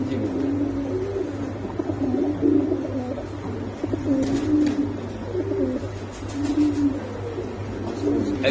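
Several pigeons, including Budapest, Damascene, racer, Danish and Bombay breeds, coo in low, repeated rolling calls against a steady background hum, with faint chirps and rustling nearby.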